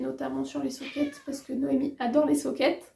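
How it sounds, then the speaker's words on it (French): A pet cat meows repeatedly in a knitting workshop, its close, insistent cries mixed with someone talking right over them. "Pardon pour le chat, elle m'a retrouvée."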